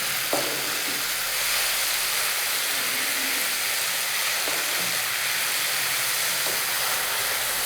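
An eggplant mixture sautés in a pan with a steady, close sizzling hiss throughout, punctuated by a few soft stirring clicks and scrapes.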